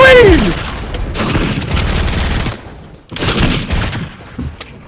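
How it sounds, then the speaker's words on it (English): Pumpkin launcher blasts in Fortnite during a Halloween Fortnitemares match: two heavy booming bursts, each trailing a rumbling crackle, with a pause between them and a speaking voice at the start. "I'm gonna go blast that guy with the pumpkin launcher."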